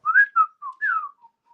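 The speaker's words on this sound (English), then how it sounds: "I can whistle like that, quite loud." A person whistles loudly and up close, with a few short rising and falling notes in quick succession and no talking.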